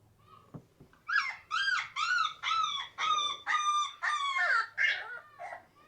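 A recording of a small puppy plays a run of about nine high yelping barks in a steady rhythm, each bark clear and close, preceded by a couple of soft taps.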